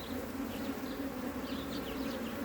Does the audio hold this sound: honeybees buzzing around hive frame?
yes